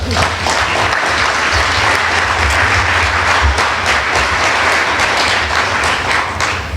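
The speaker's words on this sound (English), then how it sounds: "You can clap for that." Steady, loud applause fills a hall after a closing statement at a Democratic primary debate, a dense wash of many hands clapping without pause from start to finish.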